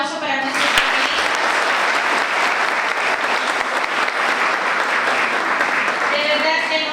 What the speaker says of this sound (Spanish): fuerte el aplauso para nuestros panelistas